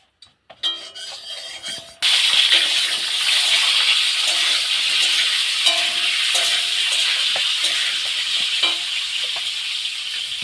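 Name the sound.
potatoes frying in a pan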